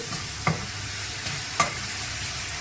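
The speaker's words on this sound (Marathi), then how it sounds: "कांदा चांगला लाल झाला आहे त्यात मी अद्रक लसूणची पेस्ट टाकत आहे" Onion fries in a pan with ginger-garlic paste and green chili for a mixed cauliflower, potato and pea dish, a steady sizzle running close beneath two sharp clinks of a stirring spoon against the pan.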